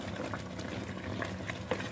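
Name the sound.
pasta with white sauce and spinach boiling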